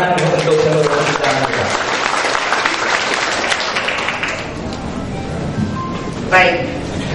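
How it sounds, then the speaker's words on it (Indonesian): Audience applause at an Islam-Christian debate in 2014, a burst of crowd clapping with voices mixed in that gradually thins, followed by a brief sharp sound near the end. "Tepuk tangan untuk seluruh kita."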